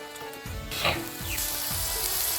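Ginger paste, dried red chili paste and chopped green chili fry with boiled peas for ghugni in a pan: a bright, close sizzle that swells as it goes, with spatula scrapes and knocks.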